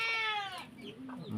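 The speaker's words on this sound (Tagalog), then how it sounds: "Mga manok, papakainin ko yan." Farm chickens cluck and squawk close by in a brief burst, a loud harmonic call at the start followed by softer clucks.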